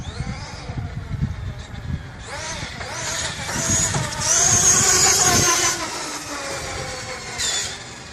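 A pair of RC monster trucks, a Losi LST 3XLE and an Arrma Nero, race across open ground at around 50 mph, their electric motors whining and rising in pitch as they speed past, with tires skidding and a brief voice at the start.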